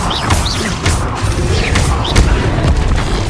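Expelliarmus spell cast in the video game Hogwarts Legacy, heard as a loud burst of booming, crashing impacts with whooshing magical effects over a dense, continuous game soundscape.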